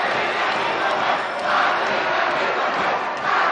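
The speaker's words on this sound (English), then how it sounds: "What an incredible crowd this is" A large crowd roars and cheers continuously at a South Jersey Group 1 championship football game, a loud, dense wall of voices that swells slightly in waves.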